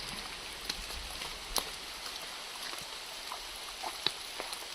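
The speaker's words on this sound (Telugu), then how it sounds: "ఇటు చుట్టుపక్కల చూడండి ఒకసారి వర్షం గట్టిగా పడుతుంది" Steady rain hisses continuously, with scattered louder drops and splashes tapping through it.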